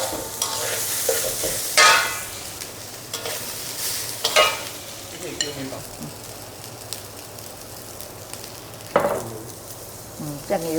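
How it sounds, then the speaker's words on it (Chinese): Glutinous rice stir-fried in shallot oil for lor mai gai gives a continuous crackling sizzle, broken by several sharp scraping strokes of a spatula in the wok, close by, with a voice speaking in places. "因为你要做这个糯米鸡那个米要爆香一下。"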